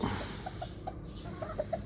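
A male chicken clucks softly in short, repeated notes over a steady background hum, the calls spaced irregularly and fairly faint.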